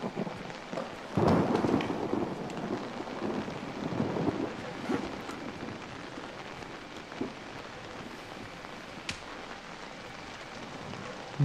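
Thunderstorm in the horror video game Outlast: a loud thunder crack and rolling rumble early on, then fading rain and distant rumble, with a few faint clicks and bangs afterward.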